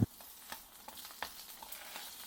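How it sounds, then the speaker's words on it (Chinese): Pork belly pieces frying in hot oil, a soft continuous sizzle with light crackles and a sharp clatter at the very start. "把油热一热后，肉直接下锅"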